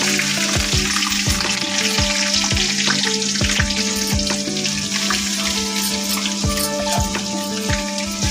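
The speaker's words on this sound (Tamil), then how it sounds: "நான் வந்து இப்போ வந்து வெங்காயத்தை போட்டுக்கிறேன்" Onions fry with garlic in a pan as the base for a fish gravy, giving a loud close sizzle with regular scraping stirs and a faint background hum.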